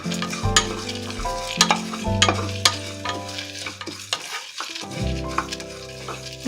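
Coriander seeds and dried chillies dry-roasting in a pan for sambar, a steady sizzle broken by repeated scraping stirs and sharp clinks of a spoon against the pan, close and clear with no talk.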